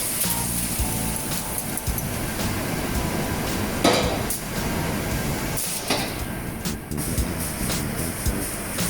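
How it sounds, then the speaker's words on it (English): Minced beef and mirepoix stirred together in a pot for a bolognese sauce, with scraping, clinking utensil-on-pot sounds and sizzling throughout, fairly close. "the mirepoix and the minced beef are cooked together, and I'm mixing it together"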